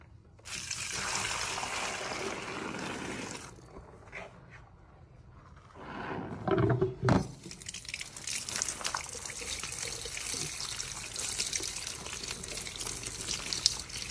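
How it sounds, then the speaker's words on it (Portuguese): Baby clothes being rinsed in water by hand: splashing and trickling water with a quieter pause midway, then louder sloshing and dribbling toward the end, no talk. "agora eu vou passar na água"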